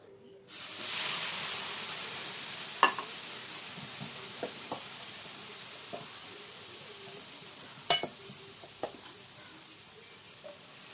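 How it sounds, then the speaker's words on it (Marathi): Onion dosa batter poured onto a hot pan, a sudden steady hiss and sizzle that continues throughout, with a few soft clinks and taps of a utensil against the pan. "आता मी याच्यामध्ये डोसा करून घेते"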